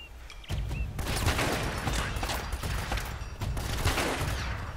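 Rapid gunfire from a Rick Grimes pistol in the video game Uncharted, a sudden dense volley of shots that starts abruptly and rattles on continuously and loud.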